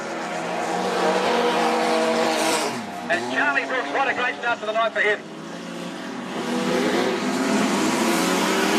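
Outlaw sedan race cars roar around the Macs Speedway track at night, engines droning steadily with a brief choppy burst midway, all under continuous excited race commentary.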